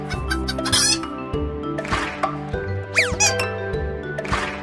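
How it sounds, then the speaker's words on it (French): A hen clucks with squeaky chirping calls in short bursts, loud and close, over a synthetic backing. "La poule."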